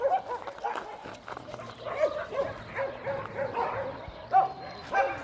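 Dogs yip and whimper close by in short, scattered bursts while a person talks over them, at an animal shelter before feeding.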